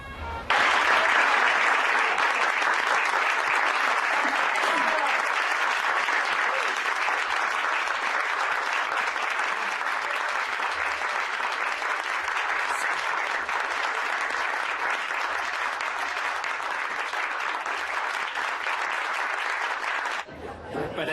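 Sustained, loud audience applause after a theatre play, a dense wash of clapping from a full house that carries steadily for about twenty seconds before cutting off abruptly.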